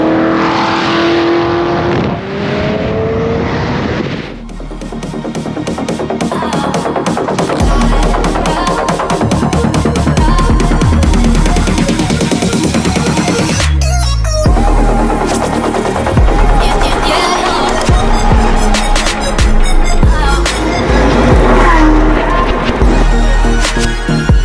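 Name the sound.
sports cars driving and accelerating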